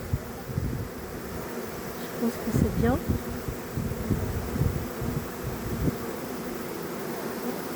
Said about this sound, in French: Si la reine est dedans, toutes les abeilles vont rentrer.